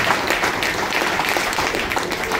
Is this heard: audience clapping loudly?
yes